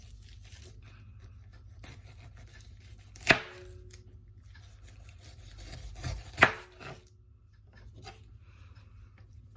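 A knife cuts through a pineapple on a board in a quiet room, giving two sharp slicing strokes a few seconds apart with softer rubbing and scraping between them.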